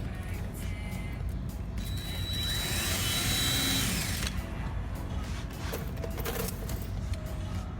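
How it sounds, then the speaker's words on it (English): Power drill boring a long run of holes through a Corvette front fascia, with a composite splitter used as the drilling template; a steady close mechanical whir with brief higher-pitched bursts. "316 holes are being drilled into the fascia using the splitter as a template."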